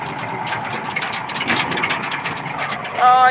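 A tractor engine rumbling at a low, slow idle, fairly close, with some background noise over it.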